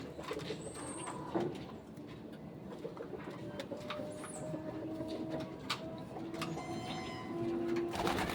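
Racing pigeons for a derby cooing softly in a loft, low throaty coos repeating over a busy background of rustling, clicks and faint chirps.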